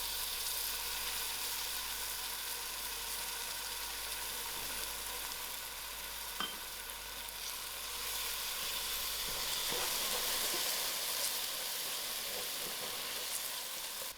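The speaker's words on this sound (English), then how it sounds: "I'm going to add in my canned tomatoes." Canned tomatoes sizzling in a pan for stuffed cabbage with lamb mince, a steady, close, bright frying hiss with a couple of faint clinks from stirring.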